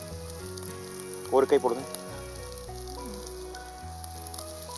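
Prawns drop into a hot pan for fried rice and burst into loud, close sizzling bursts that fade to a quieter hiss, while a person talks briefly.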